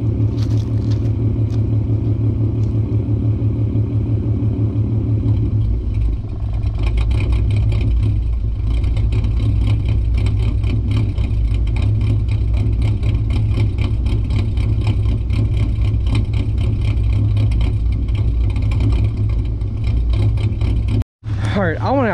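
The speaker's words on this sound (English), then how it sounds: "that's how it's going to sound when we do the idle chop mod once I have the valve on" A 2008 Ford Mustang with a 4.0 V6 engine idles with a choppy, lumpy rhythm from an idle chop mod, a steady close engine drone that carries through, with a voice talking over it and a brief dropout near the end.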